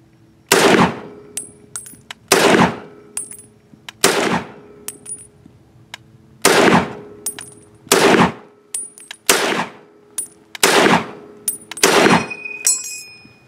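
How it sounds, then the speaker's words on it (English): Eight sharp, loud rifle reports from an M1 Garand firing .30-06 rounds, spaced irregularly at about one-second intervals with a short pause midway, each followed by a brief ringing decay and a metallic ping near the end. "shoot one more magazine of 30-06 through the M1 Garand"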